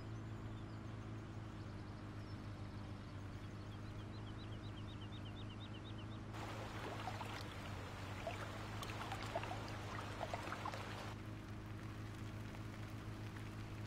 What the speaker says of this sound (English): For that, we've got ourselves a nice waterfall here.